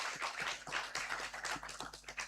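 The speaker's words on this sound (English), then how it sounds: "If you can give Nosi and Tube a round of applause." A few people clap lightly and unevenly at a Women's Month celebration event. The claps are sparse and fairly faint.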